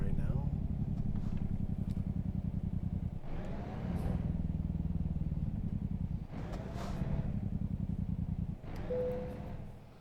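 Truck engine in American Truck Simulator drones steadily and loud throughout, with pitch shifts as it changes gear, and a steady tone near the end.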